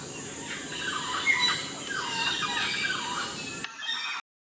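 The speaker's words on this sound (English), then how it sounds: "This is the Scarlet macaw. This is a couple." A pair of scarlet macaws calling in a nature setting: repeated moderately faint squawks and chattering calls over a steady background of insects and ambient forest noise, no speech.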